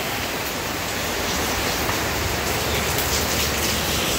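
Heavy rain pouring down with wind in Daet, a dense, steady hiss filling the whole stretch with no breaks.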